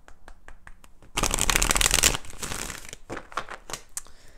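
A deck of tarot cards is shuffled up close, with light taps and handling first, then a dense riffling burst followed by softer scattered flicks and shuffles.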